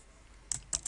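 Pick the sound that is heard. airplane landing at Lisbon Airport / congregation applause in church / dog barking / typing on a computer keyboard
typing on a computer keyboard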